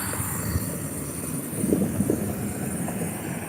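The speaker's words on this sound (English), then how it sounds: "there's also a train waiting to go through on this track, the Canadian National Newton, Illinois subdivision here in the United States of America" A freight train on the Canadian National Newton, Illinois subdivision track in the United States gives a steady, distant low rumble that holds level throughout, with a few soft swells and no voices.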